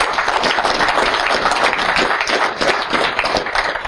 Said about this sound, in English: another round of applause for Brian.